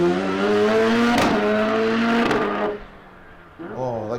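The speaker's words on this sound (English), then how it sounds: "People say bad things about how rotaries sound, but you listen to this thing, that sounds fantastic." A rotary-engined open-wheeler race car at a historic sprint event pulls away hard with a loud, buzzing engine note that climbs through the revs, cuts off sharply, then rises again more faintly.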